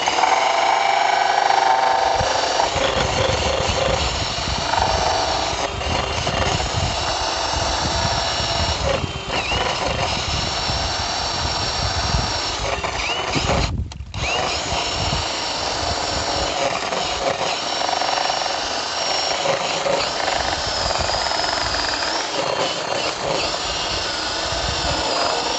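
A drill with a hole saw grinds continuously through a 1.5 to 3 inch PVC bushing, a loud sustained whirring and rasping with one brief pause midway, close up and without talk.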